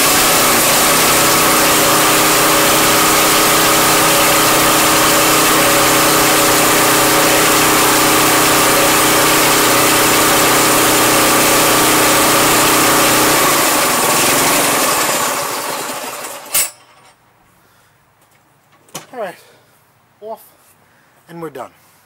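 Craftsman Gold self-propelled lawn mower engine running loud and steady close by with a constant drone, then cutting off abruptly, leaving quiet with a few brief sounds after.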